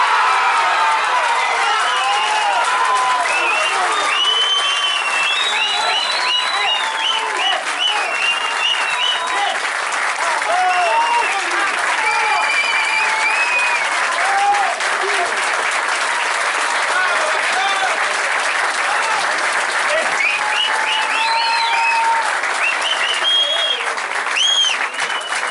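Audience at a Bocuse d'Or 2015 culinary event applauding, sustained loud dense clapping with scattered cheers and whistles throughout.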